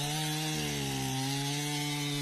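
Stihl chainsaw with a freshly sharpened chain cutting into a standing dead elm tree, a steady loud engine drone with strong harmonic whine that dips slightly in pitch as it bites into the wood, with no talk.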